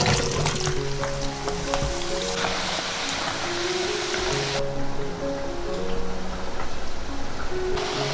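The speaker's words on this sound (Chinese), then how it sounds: "把芋头倒进来炸熟。" Steady dense sizzling and crackling of taro frying in hot oil in a saucepan, loud and continuous throughout with no voices.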